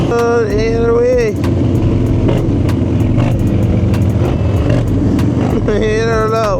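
Motorcycle engine revving hard during a wheelie, loud and close with rising pitch at the start and again near the end, sustained drone between, with a voice faintly under it.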